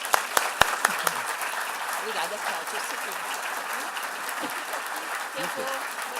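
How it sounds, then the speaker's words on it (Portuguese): An audience at a Brazilian talk breaks into warm applause to welcome a speaker, a few sharp claps at first, then a sustained patter with a voice speaking briefly over it. "recebessem a Viviane aqui com uma calorosa salva de palmas"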